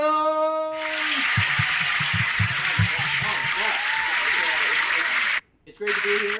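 Audience applause at Popper's Comedy Club in Philadelphia during an all-star showcase, a dense sustained roar of clapping that runs for about five seconds, cuts out briefly, then resumes as a voice begins speaking.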